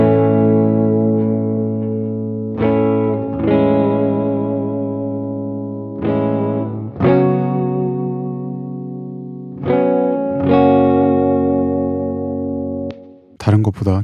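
Strummed chords on a clean electric guitar run through a compressor with a short attack time, each strike sustaining and decaying gently with a little reverb, close and steady, a brief clatter at the end.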